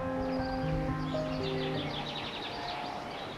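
Birdsong in open hill pastures with trees, several thin whistled and trilled phrases overlapping against a low rustling background, moderately distant and continuous, no talk.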